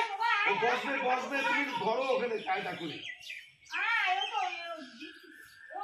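A parakeet gives shrill chirps and squawks close by, mixed with excited human voices that continue throughout.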